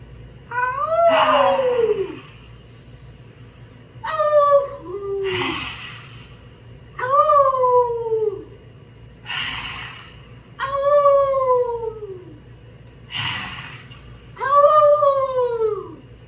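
A person imitates a lion roar during an exercise routine: six drawn-out, wavering vocal roars rise and fall about every two seconds, loud and close against a steady low hum.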